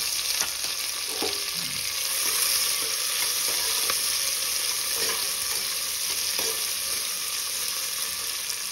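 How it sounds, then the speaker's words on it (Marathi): Onion and tomato sauté in hot ghee and oil, a steady broadband sizzle running throughout with occasional soft scrapes of stirring, fairly loud and close, no voices. "आपला आता तूप आणि तेल, आपण याच्यामध्ये कांदा घालूया. कांदा आणि टोमॅटो चांगला आपण परतून घ्यायचा"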